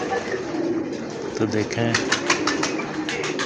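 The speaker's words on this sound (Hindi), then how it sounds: "ये बेसिकली टैडी कबूतर हैं" Teddy pigeons, a yellow-eyelid breed, coo softly in short low bursts close by, with someone talking over them throughout and some sharp clicking noises later.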